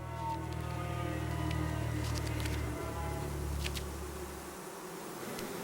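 Honeybees swarm as part of a colony splits from its hive, a dense, continuous buzzing of many insects filling the air at moderate volume, alone with no voices.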